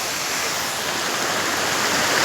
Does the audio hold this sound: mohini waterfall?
yes